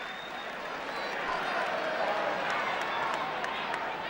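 Crowd applause and cheering swell steadily at a 1970s First Division football match between Manchester United and Arsenal, a broad continuous roar with scattered clapping that holds loud throughout.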